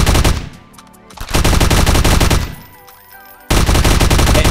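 Gunfire in Hideous Destructor multiplayer: loud, rapid automatic bursts, each cut off by a sudden gap with clicks and mechanical handling noise before the firing resumes.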